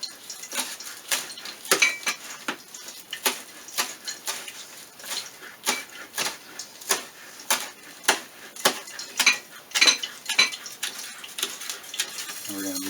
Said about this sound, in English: Onions are always good. We're going to chop this one up.